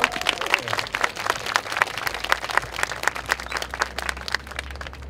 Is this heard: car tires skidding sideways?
no